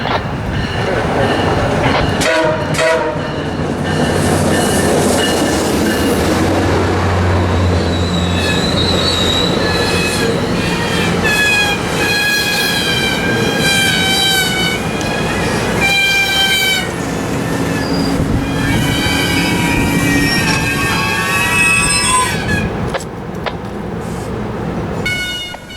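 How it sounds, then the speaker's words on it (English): A loud passing Bombardier multi-level double-decker commuter train at Point of Rocks fills the scene with rumbling wheels, metallic squeals and long hissing air releases from its horizontal stabilizers, steady and close throughout. "the sound you hear from these trains are called the horizontal stabilizers"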